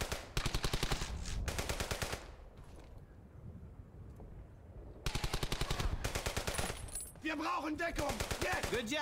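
Bursts of enemy machine-gun fire in the World War II shooter Brothers in Arms: Hell's Highway, loud rapid volleys separated by a quieter lull, with a voice speaking briefly near the end.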